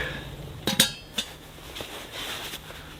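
A metal camping pot clinks and clatters a few times, sharp light knocks over a quiet background.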